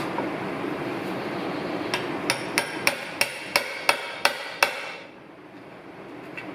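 A hammer taps a bearing into a Jeep 241J transfer case, nine sharp metallic strikes in a steady rhythm, close and distinct, before the clatter gives way to quiet.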